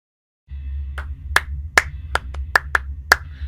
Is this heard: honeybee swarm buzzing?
no